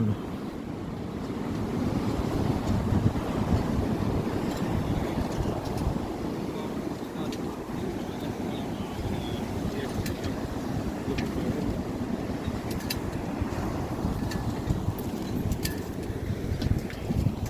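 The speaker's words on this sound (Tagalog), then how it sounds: "O yan, ang gulo ng tubig, oh, maingay ang tubig, magulo. Nagngangalit ng alon." Rough, churning sea water with waves rolling and crashing continuously near a shore, mixed with gusting wind buffeting the microphone; the broad rumbling wash stays loud and steady throughout, with no speech.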